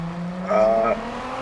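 Ford GT drifting in the Test Drive Unlimited Solar Crown racing game, a steady engine drone with a short, loud tire squeal rising over it for about half a second.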